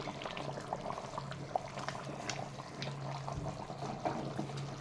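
Nellore-style fish curry simmers in a pot with a soft, continuous bubbling and gurgling and occasional small pops, steady and close, with no talking.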